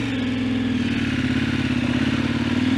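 A motorbike is ridden through soft sand on a road trip between Wave Rock and Esperance, its mid-pitched engine droning steadily and loudly throughout with a low, pulsing throb and some rattling clatter.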